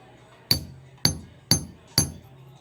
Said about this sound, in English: So I'm going to take this pointed chisel, and this thing is pretty sharp, so I don't need to hit it that hard.